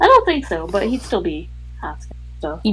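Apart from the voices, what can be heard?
No distinct noise like a dog, phone or traffic.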